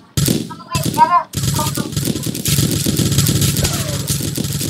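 Dense, continuous rapid firing from a Roblox Mad Paintball match rattles on loud and close, with short gaps early on and overlapping game sounds throughout.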